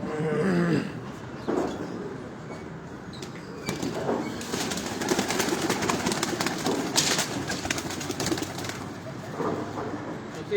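Pigeons coo and flutter on a rooftop in Islamabad, a busy outdoor setting, with wings flapping and steady background noise throughout.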